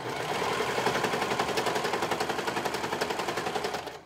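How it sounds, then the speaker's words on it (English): A sewing machine stitches the front and back curved seam of a pair of shorts, a fast, steady, even run of needle strokes that carries on alone from start to finish and then stops. "Sew the front and the back curved seam."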